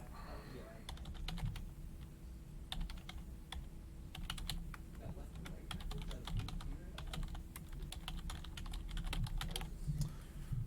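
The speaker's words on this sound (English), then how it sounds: "I'll type it out." Typing on a computer keyboard, a quiet, irregular patter of key clicks in quick bursts over a low steady hum, with occasional faint background talk.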